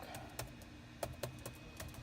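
Keys clack on a computer keyboard in a quick, uneven run of soft taps, close and quiet, with no talking over them.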